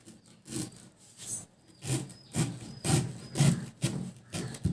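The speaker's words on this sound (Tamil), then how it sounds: "இப்போ நம்ம வந்து வாழைத்தண்டை வந்து சைடாக தான் கட் பண்ணிக்கணும்." Kitchen knife slicing sideways through a banana stem, a dull blade giving repeated rough rubbing, sawing strokes in an irregular rhythm, close and moderately loud with no talking.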